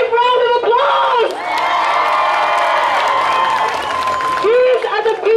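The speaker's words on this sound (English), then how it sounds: "Please give them a massive round of applause." An outdoor protest rally crowd cheers and applauds loudly, with shouts, whoops and high-pitched yells rising over continuous clapping, close and energetic throughout.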